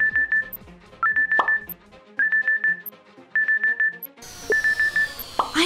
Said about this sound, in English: the alarm rang on the smartphone